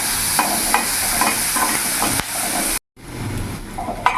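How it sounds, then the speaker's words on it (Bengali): Large chopped onion fries in a pan with a steady, close hiss and sizzle, broken by occasional scraping stirs and a brief cut in the sound before the frying resumes. "পেঁয়াজটা আমি দিয়ে দিলাম। পেঁয়াজটা কিছুক্ষণ ভেজে নেবো যাতে পেঁয়াজের কাঁচা ভাবটা চলে যায়।"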